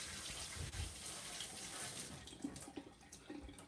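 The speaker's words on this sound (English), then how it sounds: "Let me give this a little bit of a rinse here right quick before I cut it." A running kitchen tap rinses food before it is cut for meatballs and pasta, a steady, soft hiss of flowing water that splashes and shifts as the food moves under the stream, with no talk.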